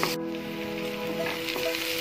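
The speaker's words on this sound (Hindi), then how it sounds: "इसे हम 2 मिनट तक हल्का सा फ्राई कर लेंगे।" Chopped onions fry in a pan for baingan bharta, giving a brief, even sizzle with light stirring scrapes, close and continuous with no talk.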